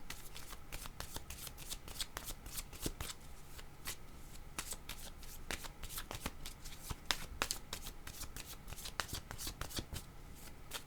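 A deck of tarot cards is shuffled continuously by hand, giving rapid, crisp riffling flutters close up, with no talk over it.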